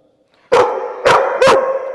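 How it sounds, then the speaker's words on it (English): Three loud, sharp dog barks close by, spaced irregularly after a brief quiet start, with a lingering ring between them. "stop barking, okay?"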